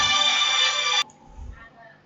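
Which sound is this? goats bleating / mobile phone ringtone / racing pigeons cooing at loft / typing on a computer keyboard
mobile phone ringtone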